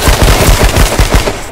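A dense, loud burst of rapid automatic gunfire during a shootout in the survival game H1Z1, close and continuous with quick repeating shots and no talk.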